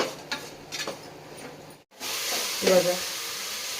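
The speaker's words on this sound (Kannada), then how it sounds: "ಚೆನ್ನಾಗಿ ಫ್ರೈ ಮಾಡಬೇಕು" Vegetable pulao masala with salt fries in a pan, giving a soft sizzle and hiss with a few stirring scrapes, quiet and close, with a short pause partway through.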